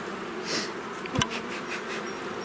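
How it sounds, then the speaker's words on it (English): Bees buzz steadily inside a hive during an inspection that turns up queen cells, a dense close drone throughout with one brief louder knock near the middle. "A lot of buzzing going on. Yeah, they're getting loud."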